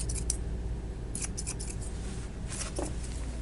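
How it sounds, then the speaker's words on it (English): Thinning shears trimming the tail fur of a Shih Tzu, a few quick crisp snips in small clusters, close and fairly quiet over a low steady hum. "I grab some thinning shears now, and I go ahead and thin that out."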